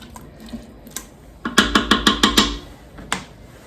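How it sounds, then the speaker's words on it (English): A spoon stirring potatoes and liquid in a pressure cooker pot gives a quick run of about seven soft, evenly spaced scraping knocks, with a few fainter clinks before and after. "So just give it a nice little stir there."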